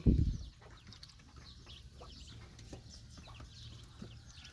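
Chickens cluck softly and intermittently in the background after a brief loud thump at the start.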